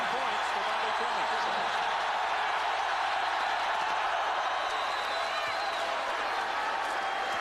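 A packed arena crowd roars at a 1989 college basketball game, North Carolina at Georgia Tech. The broad, continuous wash of cheering and chatter stays loud and steady, with voices mixed in.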